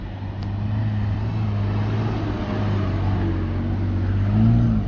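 Toyota FJ Cruiser engine pulling steadily in second gear low range with rear locker engaged and tyres at 10 PSI, climbing a steep off-road track; a continuous, loud low drone with a slight rise near the end.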